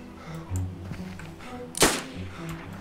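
A single sharp Mosin rifle shot cracks out in the DayZ video game as a brief loud burst over low background rumble, with quieter thuds earlier and no one speaking.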